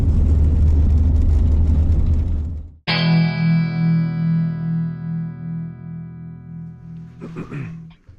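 A vehicle churns loudly through slushy, melting snow on a mountain homestead with a dense rushing rumble, which cuts off abruptly and gives way to a steady humming electronic tone.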